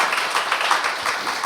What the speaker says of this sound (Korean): 우리 박수로 축하하시기를 바랍니다.